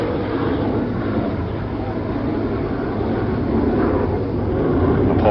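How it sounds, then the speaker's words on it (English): An airplane takes off at an airport during an RFK funeral motorcade, its steady jet roar rising slightly toward the end on a muffled, low-fidelity broadcast recording. "a pause for another takeoff."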